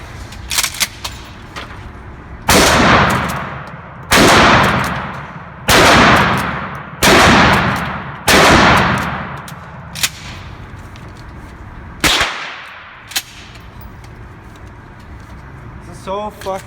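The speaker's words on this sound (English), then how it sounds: "So what I got here is a Mossberg 500. We put 5 rounds on target, then reload, put another 5 rounds on target." A Mossberg 500 shotgun fires several loud, close, booming shots spaced a second or two apart, with the clicks and clatter of shells being loaded between them.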